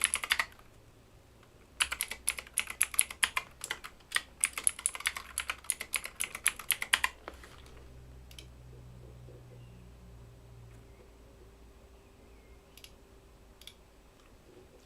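Rapid clicking keystrokes on a computer keyboard as a password is typed, dense bursts of close taps for several seconds, then quiet with a faint low hum and a couple of isolated clicks.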